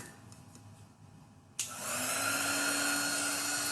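A small handheld dryer switches on with a click partway through and then blows steadily at a loud, constant whine, drying chalk paste on a door tag.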